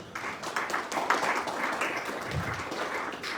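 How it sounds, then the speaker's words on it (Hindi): A crowd at a talk on the Jagannath Ratha Yatra festival applauds steadily, a dense wash of many hands clapping at once that holds at an even level throughout. "तो आप लोग सब उनको धन्यवाद दीजिएगा तालियों के साथ।"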